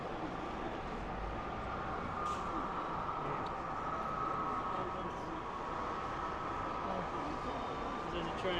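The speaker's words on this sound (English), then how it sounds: "There's a train." An N gauge model railway train running on an exhibition layout with railway arches and a bridge, a steady low rumbling hum under a constant hall murmur of background chatter.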